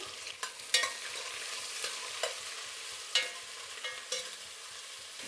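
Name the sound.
onions frying in pan for jackfruit biryani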